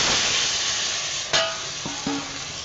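Spiced water with turmeric, chili powder and soaked dried mango hits potatoes and kohlrabi frying in a pan over a wood-fired clay stove. The pan sizzles loud and steady, with one sharp splash as the water lands and a few bubbling pops after.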